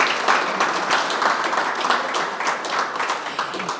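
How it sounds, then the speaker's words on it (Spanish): Audience clapping steadily at a talk and exhibition on corruption in dictatorship and democracy, a moderate, even wash of many hands with little else audible. "Un aplauso."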